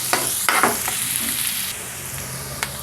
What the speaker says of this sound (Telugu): ఉల్లిపాయ ముక్కలు, పచ్చిమిరపకాయ ముక్కలు వేసుకుందాం. వీటిని ఎర్రగా వేయించుకుందాం.